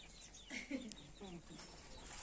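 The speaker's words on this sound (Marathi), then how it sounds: "बघा, कोंबड्या" Chickens on a village farm near a house give a few short clucks and calls, fairly faint and mixed with outdoor background noise and nearby talking.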